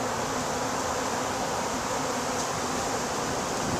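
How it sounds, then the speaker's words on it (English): Honey bees swarm around an opened beehive, making a dense, unbroken buzz that stays loud and close throughout, with no voices. "A lot of bees on the ground."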